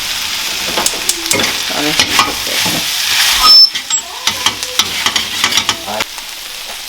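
Sweet and spicy chicken sizzles loudly in a pan while being stirred, producing repeated scrapes and clatters over a steady frying hiss, with a brief spoken word partway through.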